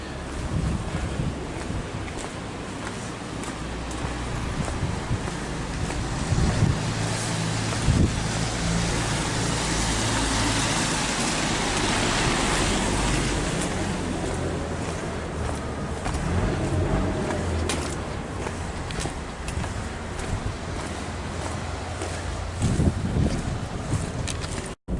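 Steady broadband rain and wind wash inside a car driving on country roads between Paulnay and Mézières-en-Brenne in France, with the rain coming on heavier, plus low road rumble and no talk.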